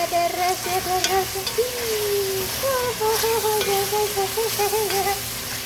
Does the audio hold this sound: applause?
no